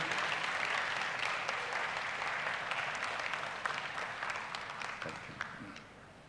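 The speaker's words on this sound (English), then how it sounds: "Let's give a round of applause to all our sellers, to our community members" A seller conference audience applauds during a keynote, a dense, steady wash of many hands clapping that fills the room, then thins and fades toward the end.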